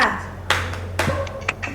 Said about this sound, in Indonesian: Untuk menyemangati diri, kita tepuk PPK dulu.